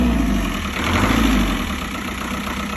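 A narrowboat engine runs at a steady idle, a continuous low rumble close by with no voices.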